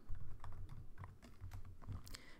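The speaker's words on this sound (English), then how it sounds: "oops, my typing is bad" Quick typing on a computer keyboard while writing Python code, a steady patter of close, light key clicks with no voices.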